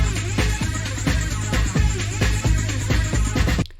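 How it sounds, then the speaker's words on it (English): Hoover synth sound in a rave style, played as a loud, dense track with a pulsing beat under a thick, buzzing lead, no speech. "So that sound is like the Hoover sound."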